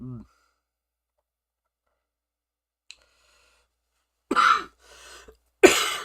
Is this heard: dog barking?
no